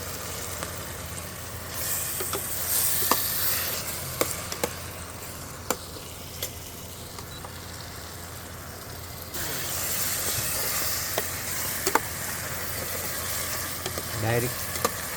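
Ginger and garlic tempering in hot oil for dhaba-style paneer bhurji, a continuous close sizzle with brief stirring clicks and scrapes, a louder surge partway through.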